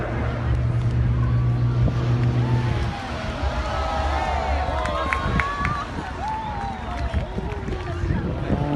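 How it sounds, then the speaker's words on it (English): Fast jets at the Bournemouth Air Show 2019 drone loudly before their engines are throttled back to idle, and a large outdoor crowd then cheers and whistles across the open field. "this will get your attention as they idle their engines in a second"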